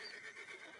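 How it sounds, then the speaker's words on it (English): A brief, faint horse whinny, a single high wavering neigh lasting under a second, heard at a distance. "One horse."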